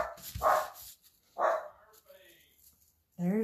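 A dog barks twice, two loud close separate barks about a second apart, with quiet gaps and a brief voice at the end.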